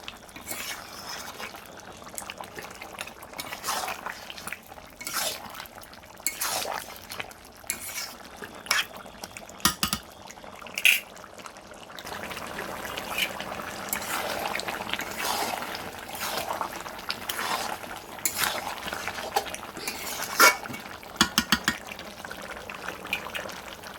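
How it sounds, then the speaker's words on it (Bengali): Chicken kosha is stirred and sautéed in a pan: a continuous wet, bubbling sizzle under repeated scraping and clanking of a spoon against the pan, near and moderately loud throughout. "দেখো বন্ধুরা, চিকেনটা কষা হচ্ছে, এখনও কষতে অনেকটাই বাকি আছে।"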